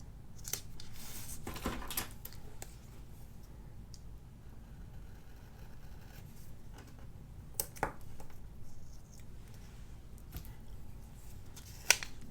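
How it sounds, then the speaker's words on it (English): Scissors cutting paper for a planner page, a few close, quiet snips and crisp paper rustles spaced apart over a soft background hiss. "cut that down a little bit, or cut it completely like this"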